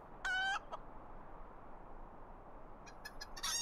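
Chickens cluck in the LOTRO (Lord of the Rings Online) video game during a chicken run, with a short bright burst at the start, a brief pause, then a rapid cluster of clucks near the end over faint background noise.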